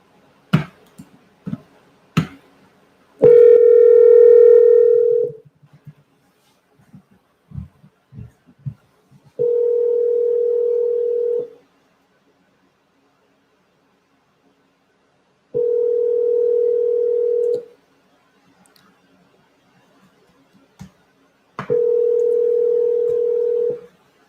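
Repeated telephone ringback tones while calling a cell phone: four steady, loud tone bursts of about two seconds each, separated by long silent gaps, with faint clicks and handling noises before the first.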